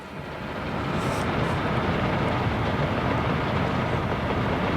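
A train rolls along steadily in the Soviet Republic city-building game Workers & Resources, its broad rumble rising over the first second and then holding loud and constant with a faint rhythmic clatter, no voices heard.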